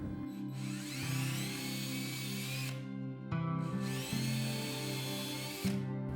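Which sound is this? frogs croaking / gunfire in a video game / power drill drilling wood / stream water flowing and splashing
power drill drilling wood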